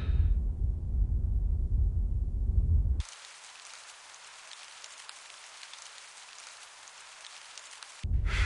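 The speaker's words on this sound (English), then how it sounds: "Why does it always rain in England?" Rain falls in a video game, starting after a heavy low rumble cuts off, then a bright, steady hiss of downpour runs for several seconds before the low sound returns.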